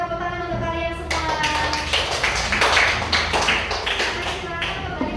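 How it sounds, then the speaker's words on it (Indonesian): Students clapping hands together in a primary school classroom, a steady patter of many small hands that swells and continues for several seconds, with children's voices mixed in. "silakan tepuk tangan untuk kalian semua"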